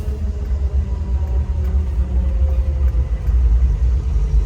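Vintage Ford Bronco engine while driving in a low gear, a loud, close, deep rumbling drone that pulses slightly and swells toward the end, with no voices.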